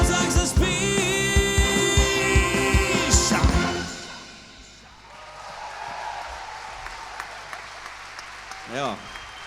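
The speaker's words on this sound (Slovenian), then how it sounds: "še en aplavz za tale orkester in za bobnarja" Near the end of a Christmas and New Year pop-rock concert by a brass band, the band plays loudly before the music breaks off into audience applause, with someone talking over the clapping as it dies away.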